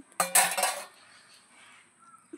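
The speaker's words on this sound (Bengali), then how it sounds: "এবারে ঢাকনাটা খুলে দেখে নিচ্ছি" A metal lid comes off a pot of palm fritter batter made with semolina and sugar, giving a sharp clanking rattle of metal against metal, then a quiet, still room.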